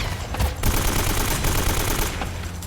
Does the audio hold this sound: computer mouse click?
no